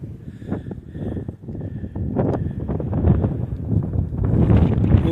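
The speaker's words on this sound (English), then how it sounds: "Wicked windy though." Strong wind gusting across a mountain hiking trail near Las Vegas, buffeting the microphone in uneven rushing bursts that build louder toward the end, with faint movement noises mixed in.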